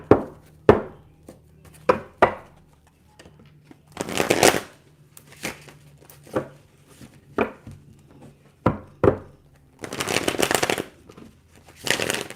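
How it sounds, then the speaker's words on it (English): Cards riffle and snap in several quick bursts, with crisp taps and shuffles spread across the clip at close range. "Let's get two more good shuffles and then we're ready to go."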